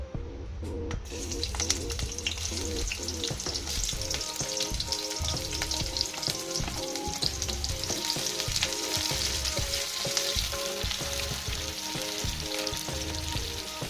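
Onions dropped into hot oil in a pan for Bicol Express, a loud dense crackling sizzle that holds steady throughout, close up with no talk.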